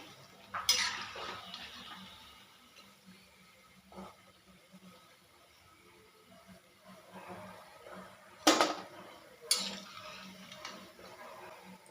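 Spinach fritters are turned and lifted out of frying oil, with a faint background sizzle and a few sharp metallic clinks and scrapes of a slotted spoon against the pan or plate, close and sparse.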